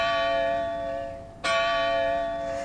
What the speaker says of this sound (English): just as we hear a bell ringing, even from a bell tower hidden from our eyes